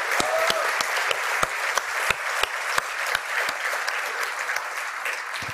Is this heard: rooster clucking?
no